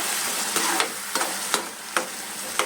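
Pureed tomato frying in a pan for potato gravy, a dense close sizzle with a few quick scraping strokes of a spoon at regular intervals.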